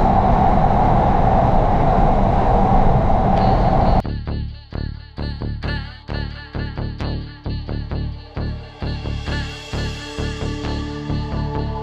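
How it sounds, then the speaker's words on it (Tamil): A Doha Metro train runs along the Qatar Rail line, starting with a loud continuous roar and then shifting to a rapid, rhythmic series of clanks and thumps as it keeps moving. "இப்போ முன்னுக்கால போன ட்ரெயின் வந்து இப்போ பின்னுக்கால போகுது"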